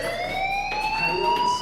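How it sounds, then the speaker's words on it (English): A fire alarm in a school building from the video game Life Is Strange sounds a continuous electronic tone that slowly rises in pitch, steady and moderately loud with no talking. "Hey, do you hear that fire alarm?"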